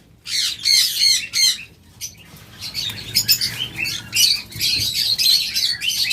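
A pair of blue opaline budgerigars at a bird sale squawk and chirp in rapid, shrill bursts, close and loud, with brief pauses between calls and no voices.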